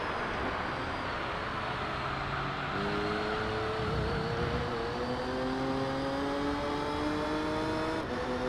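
A Dodge Viper race car in Gran Turismo 3 roars past with a loud, sustained engine note that climbs as it accelerates through the gears, its pitch rising and shifting steadily under continuous road and wind noise.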